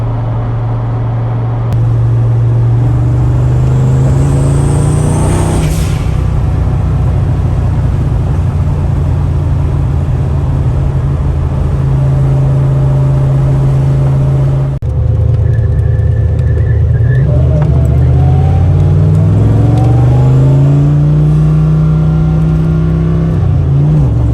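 A car engine idles loudly and continuously, fitted with a worn-out turbo, its steady drone rising and falling in pitch with a whirring edge throughout.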